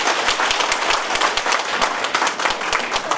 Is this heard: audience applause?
yes